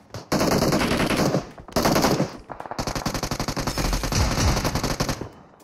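Rapid automatic gunfire from an online shooter video game, loud and close in long bursts broken by short pauses, followed by a stretch of quicker, choppier shots.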